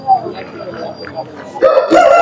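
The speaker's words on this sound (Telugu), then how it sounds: "ఇక్కడికి మంచి మంచి జాతి పుంజులు అయితే వస్తాయి" At a busy Baireddipalli livestock market selling sheep, goats and hens, a rooster lets out a loud, close crow near the end, after a stretch of people talking.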